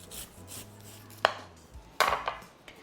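Knife slicing the peel off the sides of a vegetable on a cutting board: a few separate crisp cuts and board taps, close and fairly quiet, with brief rustling between strokes and no talk.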